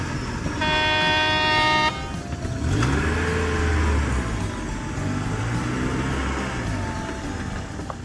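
A toy truck in a children's sand-play scene gives a sustained electronic horn toot, then rolls along with whirring, revving motor tones that rise and fall, loud and close with no talking.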